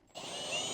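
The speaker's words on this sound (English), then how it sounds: "I'm just gonna send my bit through there, make a little mark in the wood." A power drill whirs up and holds a steady high-pitched spin as its bit passes through pre-drilled holes in a ground post to mark the wood behind, a short close burst alone.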